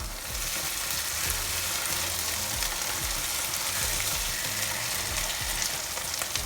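Fresh tomatoes hit a hot pan for a Ghanaian fish stew, setting off a steady, loud, close sizzle and crackle of frying that runs unbroken throughout, with no talking.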